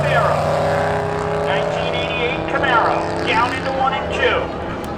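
A 1988 Camaro drag racing at Seekonk Speedway spectator drags, engine roaring and revving through gear changes at a distance while a track announcer talks over it.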